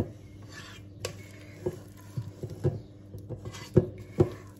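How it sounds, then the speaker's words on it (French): Cherry cake batter is stirred in a bowl with a utensil, giving soft scraping swirls punctuated by several sharp clinks against the bowl's side at irregular intervals, close and alone in a quiet kitchen. "Je vais remuer"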